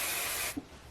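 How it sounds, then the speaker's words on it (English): A half-second burst of hair holding spray hisses loudly from a close aerosol can, then cuts off sharply, followed by a small soft knock. "I'm going to add some holding spray here."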